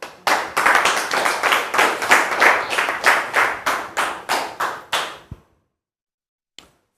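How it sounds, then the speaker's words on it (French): Studio audience applause welcoming a guest onto a French-language talk show, a dense burst of clapping swelling in rhythmic waves for about five seconds before stopping abruptly, leaving near silence with one faint tap. "Merci public de recevoir notre sœur Priscille Kwasi sous vos applaudissements."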